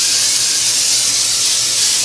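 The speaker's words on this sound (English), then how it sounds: "I got my butter spray. This is just some good old great value butter spray." Great Value butter spray hissing from the can onto a pan lined with parchment paper: a steady, close, continuous spray of about two seconds, heard alone with no talking.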